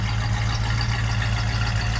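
A pickup truck engine idles steadily and loudly with a deep low rumble, no revving, running alone throughout.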